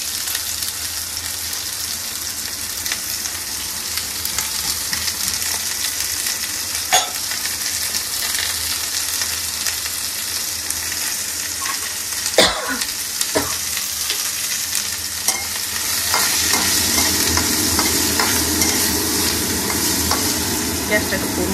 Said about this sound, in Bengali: পটল আর আলুগুলো দিয়ে দিচ্ছি, ভাজা হবে একটু।